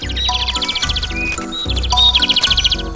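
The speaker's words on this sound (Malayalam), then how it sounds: "പക്ഷികൾ വരുന്ന ശബ്ദം കേൾക്കുന്നുണ്ട്." Cartoon birds chirp in quick bright bursts, repeating throughout over a steady, low, bouncy background.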